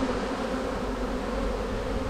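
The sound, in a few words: swarm of honey bees buzzing near the hive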